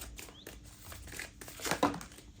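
Tarot cards are shuffled by hand close by, a soft papery crinkling and rustling that builds to a brief louder riffle near the end.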